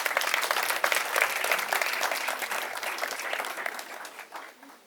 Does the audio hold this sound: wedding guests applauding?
yes